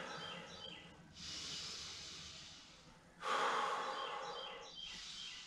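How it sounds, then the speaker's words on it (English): Slow, deep breaths taken while holding a Kundalini yoga pose: a long breathy exhale, then a louder, rougher breath and a shorter one, close and steady with no talking. "You want to take deep breaths in this position."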